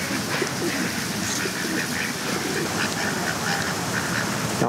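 Dense chorus of ducks quacking at Hiratsuka Hachimangu shrine, continuous and close, over a busy outdoor background during a Tanabata festival.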